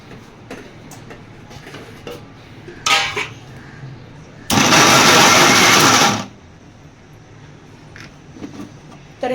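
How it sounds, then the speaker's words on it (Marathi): Tomatoes ground into chutney in a kitchen mixer grinder, a loud, steady whirring roar running about two seconds after a few short clattering bursts. "माझ्याकडे खलबत्ता नाहीये ना, म्हणून मिक्सरमधून वाटून घेते."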